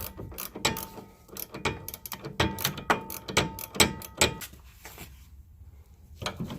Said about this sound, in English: Got my ratcheted wrench back on, and I'm just gonna go with my open end 18.